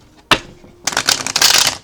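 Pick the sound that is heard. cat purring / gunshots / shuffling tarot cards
shuffling tarot cards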